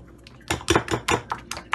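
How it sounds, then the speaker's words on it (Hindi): Flour and milk batter beaten in a bowl for aloo cheese balls, with a spoon knocking and scraping against the bowl in a quick run of sharp clinks and taps. "चार टेबल स्पून दूध डालेंगे। अच्छी तरह से मिक्स करेंगे इसको"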